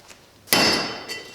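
A single sharp metallic hammer strike on a punch against a Farmall Super H tractor part rings out close and loud, then fades, with a faint tap just after.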